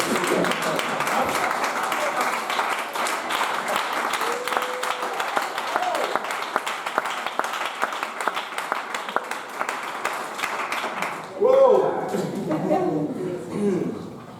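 A church congregation claps during a French-language sermon, sparse scattered hand claps under a preacher's continuing speech, then a brief louder burst of applause and murmuring near the end.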